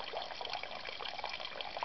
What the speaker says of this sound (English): So you just let it tinkle out into the can